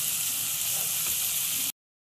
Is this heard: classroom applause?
no